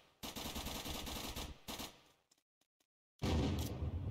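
Automatic gunfire in the survival game Unturned: two loud, rapid bursts of shots, a near-silent pause of about a second, then another heavy, close burst.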